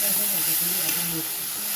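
Eggplant and spices sautéing in a pan, a constant loud hiss and sizzle with a voice murmuring faintly underneath.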